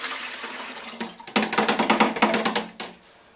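Liquid medicine is poured in short gurgling bursts, splashing into a container at close range, with no talk.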